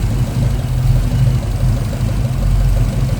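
A 351 V8 in a 1991 Ford Mustang notchback with BBK shorty headers and MSD ignition idles close by, a deep, steady rumbling lope with a loping pulse and no talking.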